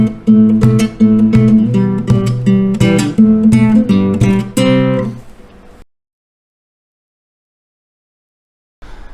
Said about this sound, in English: Now another way to play a percussive sound on the 2nd and 4th beats is using your wrist like this